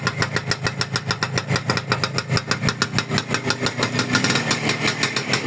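An old motor engine runs with a loud, steady, rhythmic chugging pulse, evenly repeating at close range without any talking over it.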